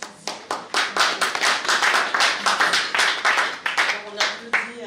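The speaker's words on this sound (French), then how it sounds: "On applaudit chaleureusement notre chanteuse" An audience claps warmly for a singer at a community association conference in France, the hand claps sharp and close, coming in uneven bursts that rise and fall across the few seconds.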